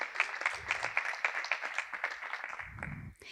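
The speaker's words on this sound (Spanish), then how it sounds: "Así que vamos a dar un fuerte aplauso." Applause from an audience at an architecture networking event in a Porcelanosa showroom in Málaga, a steady patter of clapping over about three seconds with some low rumble, fading at the end.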